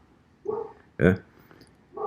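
A small female dog barks several times close by indoors, short yaps spaced apart while a voice speaks in between.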